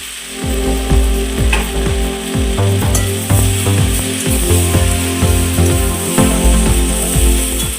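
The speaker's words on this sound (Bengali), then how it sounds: "সবজিগুলো কিছুক্ষণ ভেজে নেওয়ার পর এখন আমি বেগুন আর টমেটোটা দিয়ে দু মিনিট নেড়ে চেড়ে নেব" Eggplant and tomato with mixed vegetables fry in a pan for a Bengali fish curry, a steady loud sizzle broken by repeated scraping, clacking strokes of a spatula stirring at a regular rhythm, with no voices.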